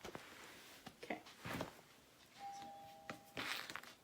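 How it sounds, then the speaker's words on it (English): A doorbell rings faintly once amid quiet workshop shuffling and handling noises during leather wallet crafting, a single sustained tone lingering about a second. "Door bell."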